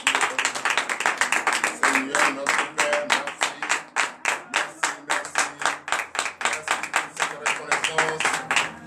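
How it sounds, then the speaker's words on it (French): A church congregation at a Beninese morning prayer service claps rapidly and loudly in a steady, dense rhythm, with a voice speaking over the clapping throughout. "Tu dois d'abord lui donner de vives acclamations"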